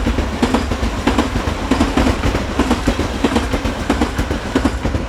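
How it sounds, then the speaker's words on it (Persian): Japanese Shinkansen bullet train heard from on board, a steady loud rumble with rhythmic clicking of wheels over rail joints repeating throughout, no voices. "این دیگه آخرین باری بود تو این سفر که سوار این قطاره شینکانسن یا قطار گوله‌ای ژاپن شدیم"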